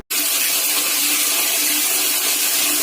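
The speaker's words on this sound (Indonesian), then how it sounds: "tiba-tiba air keran yang ada di kamar mandi tuh hidup sendiri tuh" A bathroom water tap turns on by itself and runs steadily after a sharp onset, a loud continuous hiss of water pouring into a sink with no pauses.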